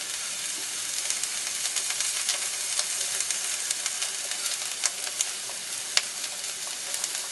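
Eggs for an omelet frying in a pan, a constant bright sizzle and hiss with small scattered pops and crackles, close and steady, with no talk.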